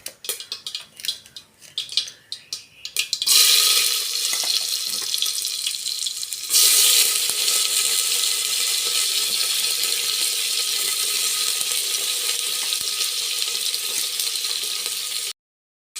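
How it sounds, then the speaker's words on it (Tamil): Shallots, curry leaves, dried red chillies, garlic, cumin, pepper and coriander seeds hit hot oil in a pan for a horse gram kadaiyal. A few seconds of utensil clatter give way to a loud, steady sizzle that runs on close to the microphone. "சின்ன வெங்காயம், கருவேப்பிலை, வரமிளகா, வெள்ளைப்பூண்டு, அப்புறம் சீரகம், மிளகு, கொஞ்சம் வர கொத்தமல்லி, இது எல்லாத்தையும் இப்போ நம்ம சேர்க்க போகிறோம்."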